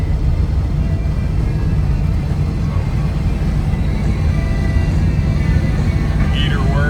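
A 1987 Chevrolet K10 pickup cruises at about 60 on the highway, heard from inside its tight cab as a loud, steady road and engine rumble with wind and faint radio in the background.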